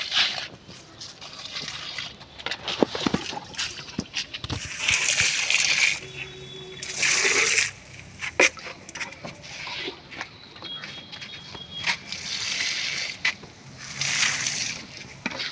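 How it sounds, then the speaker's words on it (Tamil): Gentle splashing and trickling of water poured in short bursts onto a rose plant, with quiet handling noises and pauses between pours. "இப்போ செடிக்கு எப்படி தண்ணி ஊற்றலாம் பார்க்கலாம் வாங்க."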